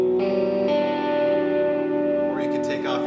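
An electric guitar chord rings out with chorus and echo effects, sustaining and shimmering briefly before a short strummed flourish at the end.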